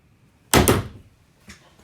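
Walk-in closet doors in a 2021 Alliance Paradigm 370FB fifth-wheel RV open with one sharp close knock or clack, followed by a softer second tap a moment later.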